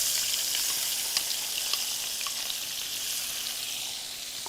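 Chopped onion hits hot oil in a pan while cooking pan-fried pomfret Bangladeshi style, giving a steady, even sizzle with a few faint pops and stirring clicks, no voices.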